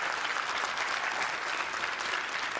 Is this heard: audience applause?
yes